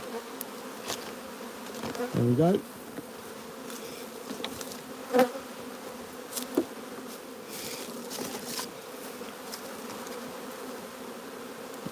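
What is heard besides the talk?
honeybees buzzing around a nuc hive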